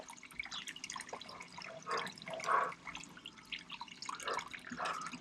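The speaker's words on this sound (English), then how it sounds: "the water overflowing back into the tub, which is recirculated" Recirculated water spills back into a tub from a gold sluice setup cleaning Reedy Creek paydirt, a steady close trickle and splash with dripping, rising briefly louder in a couple of surges.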